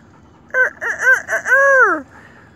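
A rooster crows once nearby, loud and clear: a few choppy opening notes rising into a long drawn-out final call against a quiet background.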